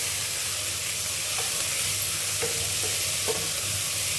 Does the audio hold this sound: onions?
yes